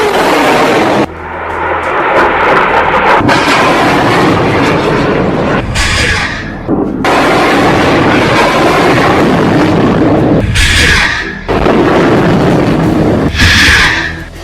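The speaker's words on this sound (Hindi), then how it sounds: "एक के बाद एक हमास 10 रॉकेट फायर करता है।" Hamas rockets launching one after another from Gaza toward Israeli cities, a loud roaring rush of fire that swells, cuts off briefly and resumes in several long blasts, heard up close.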